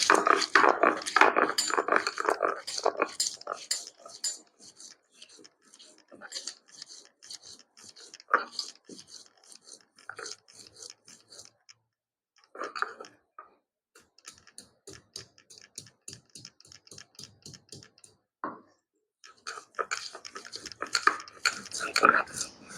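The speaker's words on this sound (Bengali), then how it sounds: "এই যে আমি এক টুকরো আদা নিয়েছি, 4টে কাঁচা লঙ্কা, 2টো শুকনো লঙ্কা আর একটু জিরা একসঙ্গে বেটে নেব।" Ginger, green and dried chillies and cumin being ground into a paste on a stone, heard as a steady series of close, dry rhythmic knocks and scrapes with brief pauses between runs.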